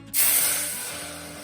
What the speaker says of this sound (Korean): 이거 다 붓나요? 네, 다 부어주세요.